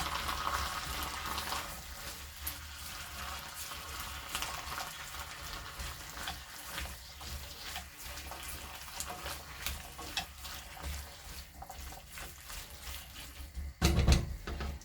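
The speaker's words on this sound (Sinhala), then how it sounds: "ඊට පස්සේ මෙහෙම හොඳට අපි මේක හොඳට කලවම් කරගෙන" Chickpea curry is stirred in a pan, giving a steady, soft sizzle and scraping with faint liquid movement throughout, and a brief louder clatter near the end.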